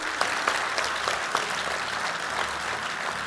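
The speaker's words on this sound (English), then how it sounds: "Can we get a round of applause for Roger" Keynote audience at the Devcon SEA conference claps steadily for several seconds, a dense even wash of hand claps with a few sharper ones near the start.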